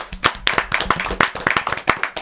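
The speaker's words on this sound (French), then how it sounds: "On peut l'applaudir, les amis." An audience applauds a guest at a French hip hop discussion show, a dense burst of hand clapping at close range with voices faintly mixed in.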